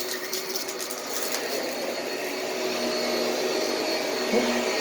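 Bissell Pet Hair Eraser Slim stick vacuum running indoors, a steady close whine and motor hum holding at an even level throughout.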